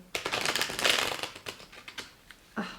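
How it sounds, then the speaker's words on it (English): Tarot cards riffle-shuffled up close, a rapid fluttering burst followed by a few taps and a final soft clack. "I really like to riffle shuffle these because the cardstock is great for it"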